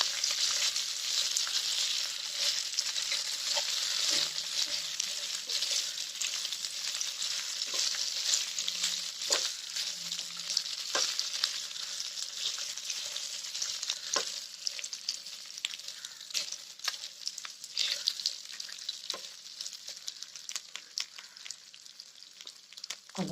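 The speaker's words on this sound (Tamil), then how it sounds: "நல்லா எல்லா பக்கமும் ஒரு தடவை கலந்து விட்டுறலாம்." Food frying in a pan for a Tamil tiffin dish while being stirred: a steady, close sizzle with scattered scraping and tapping from the spoon against the pan throughout.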